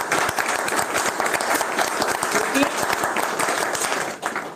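Loud, continuous applause from an audience at a company award event, steady clapping throughout with a brief dip near the end.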